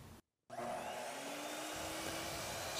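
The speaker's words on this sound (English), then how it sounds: "Start with cutting a reverse 45 degree angle on the base." A miter saw cutting a 45 degree angle in wooden baseboard: after a brief silent gap, a loud steady motor whine starts, with a rising tone and a rough grinding cut running on to the end.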